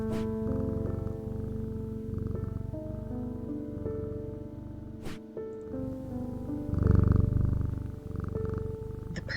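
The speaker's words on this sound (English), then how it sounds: "The purring is so nice." A cat purrs steadily and close by, a low continuous rumble lasting throughout, layered under sustained tonal background music from a game.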